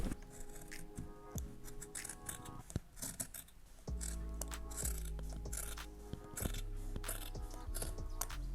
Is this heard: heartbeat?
no